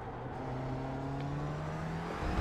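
A McLaren 570S GT4 race car in iRacing accelerates with a steady engine drone whose pitch rises smoothly as the revs climb. It is heard close, from the driver's seat, with no talk over it.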